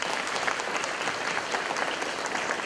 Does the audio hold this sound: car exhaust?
no